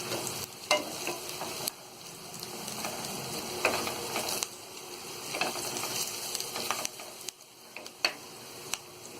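Turmeric powder is stirred into chillies frying in a pan for crispy bhindi fry, with a steady close sizzle broken by scraping stir strokes and small clicks from the pan, and no voices.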